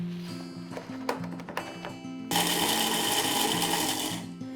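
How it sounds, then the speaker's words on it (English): Kitchen blender grinding an ingredient to powder, starting with short rattling pulses and then running in a loud steady whirring roar up close. "I'm going to pop mine into a blender so that I get it to a powder"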